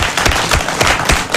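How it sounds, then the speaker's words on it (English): Applause at a presidential campaign encounter with a political flagbearer in Ghana, dense clapping from a crowd, loud and close with a few sharper individual claps standing out. "Round of applause for GBC."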